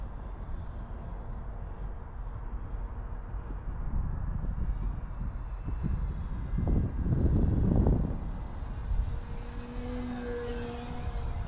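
A Prime Tundra RC bushplane on floats flying, its small engine droning steadily at a distance and swelling louder for a few seconds as it passes before easing back, with no talking.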